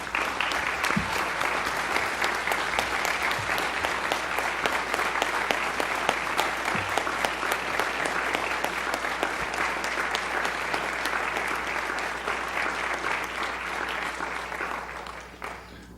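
Sustained audience applause fills a council meeting chamber for city employees, dense steady clapping from a large crowd holding at full strength for about fifteen seconds before tapering off at the very end.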